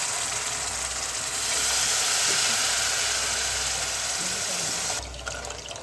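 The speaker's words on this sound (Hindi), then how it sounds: "ये पानी भी ऐड कर दूँगी थोड़ा थोड़ा करके" Water poured gradually into semolina halwa cooking in a pan over a low flame, giving a steady loud hissing, bubbling sizzle that drops away near the end.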